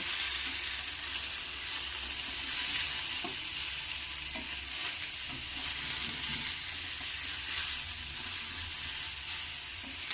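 Cumin, coriander and turmeric powders fry with saag greens in a pan while being stirred, a soft continuous sizzle with scraping stir sounds, fairly quiet and steady with no talk.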